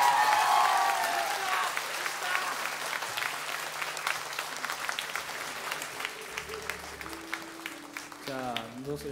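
Concert crowd applause for the drummer at a tour show, a continuous wash of clapping that slowly softens while a sustained instrument tone and brief voice sounds appear underneath near the end.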